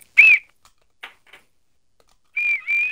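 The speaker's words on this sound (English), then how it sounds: "This is the great time for a whistle." Two shrill referee whistle blasts sound in a football video game, a short one near the start and a longer double-toned one at the end, with faint clicks between.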